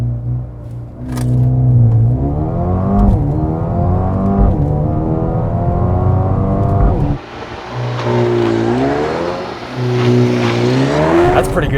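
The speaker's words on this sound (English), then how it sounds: "'20 Mercedes-AMG A35. 4MATIC hatch with launch control." Launch-control acceleration from a 2020 Mercedes-AMG A35 4MATIC hatch with a 2-liter turbo four, close and loud, its engine note rising through repeated upshifts with brief dips between gears, a short break near the middle, then climbing again.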